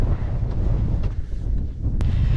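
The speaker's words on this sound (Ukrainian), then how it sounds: "На вершині знову вітряно." Strong wind on a mountain summit in Iceland buffets the microphone in a steady low roar, gusting throughout with no voices.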